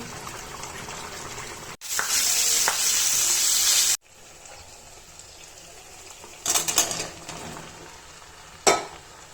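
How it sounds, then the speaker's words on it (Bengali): Sponge gourd sizzles as it drops into hot spice masala for a rui fish curry with oil-fried potatoes. A loud, bright hiss bursts up, cuts off abruptly, then gives way to steadier frying broken by a few scraping stirs. "মশলার ভিতরে দুন্দুলগুলো দিয়ে দিলাম আর আলুটা আমি তেলের সাথে ভাজা ভাজা করে নিয়েছি"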